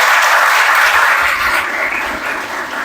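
Applause for the college teachers at a World Sanskrit Day celebration, a loud, dense patter of many hands that tapers slightly toward the end.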